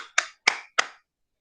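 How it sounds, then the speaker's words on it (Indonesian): Three sharp hand claps ring out alone in a quiet classroom, evenly spaced and close, each with a short decay. "kalau kita tepuk tangan"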